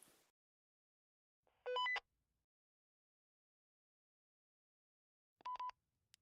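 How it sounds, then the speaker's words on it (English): Radio beeps in a video game: two short electronic bursts several seconds apart, separated by near silence. "am I getting radio beeps?"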